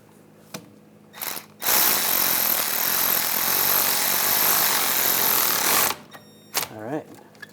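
Rapid ratchet clicking tightens an axle bolt on a 2009-2017 Volkswagen Tiguan 2.0L during rear CV axle replacement, a loud steady burst of several seconds framed by a few short clicks and tool handling before and after.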